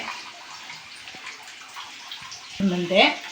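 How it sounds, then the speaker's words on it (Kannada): Water is poured into a broken, leaking pot, making a soft, steady trickle close by. A voice starts over it near the end. "ನೀರು ಹಾಕಿದ್ರೆ ಇಲ್ಲಿ ನೋಡ್ರಿ, ಇಲ್ಲಿ ಸೋರ್ಕೊಂಡು ಹೋಗ್ತೈತೆ."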